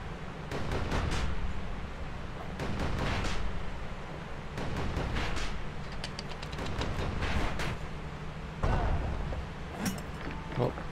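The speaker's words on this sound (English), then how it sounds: "Fun using the mortar." Mortar firing in Bastion, repeated booming shots in loose bursts with crackling impacts, moderately loud over a steady game background.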